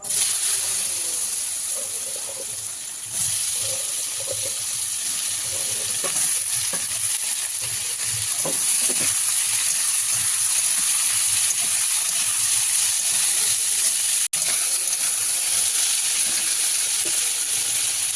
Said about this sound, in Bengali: আমি আলুটা ভেজে নেবো